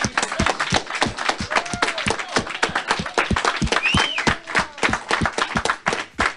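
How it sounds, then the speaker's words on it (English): A seminar audience gives a round of applause, a fairly small group clapping loudly and close with distinct individual claps in an uneven rhythm, briefly under a voice. "So let's all give him a round of applause."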